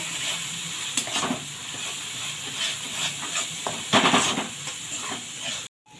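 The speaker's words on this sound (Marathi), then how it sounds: "हा मसाला चांगला परतून घेऊया तेल सुटेपर्यंत." Ground fish masala paste for a bangda (mackerel) curry frying in hot oil, a steady close sizzle broken by scraping stirs and a few louder bursts, with no talking.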